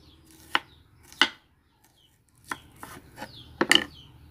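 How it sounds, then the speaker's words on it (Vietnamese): A knife chops shallots on a cutting board for a vegetarian braised ginger dish, sounding as sharp, close, separate thuds, a few spaced strikes then a quicker cluster near the end, with no talk. "Các bạn có thể xắt hành nhuyễn ra, hoặc là các bạn có thể xắt như thế này cũng được."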